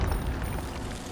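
The Incendio fire spell in Hogwarts Legacy erupts as a single loud, close, rumbling burst of flame that fills the brief moment without letup.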